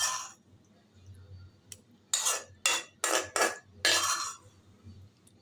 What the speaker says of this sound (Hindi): ये छन्नी में डालने के बाद ना आपने चम्मच लेकर इसको इस तरह से मैश करना है